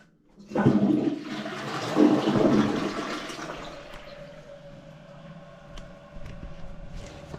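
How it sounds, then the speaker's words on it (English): A toilet flushes after a blocked drain has been cleared, a loud rushing surge of water that fades into a steady refill trickle and hiss, with no voices. "one more flush."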